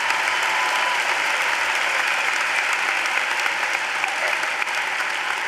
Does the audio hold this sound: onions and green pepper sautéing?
no